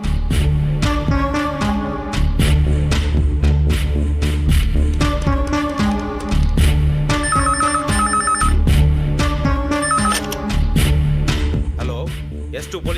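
A loud telephone ringtone plays in repeated melodic bursts with short gaps, close and steady, with no voices over it.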